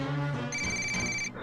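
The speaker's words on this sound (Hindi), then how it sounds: "तभी उसके फोन पर कॉल आती है।" A mobile phone rings with an incoming call, a brief electronic ringtone with a steady high tone that cuts off quickly, with no talk.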